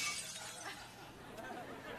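A glass-shattering sound effect on a television game show fills the clip with bright crashing and tinkling debris, loud and close, over a murmur of studio noise.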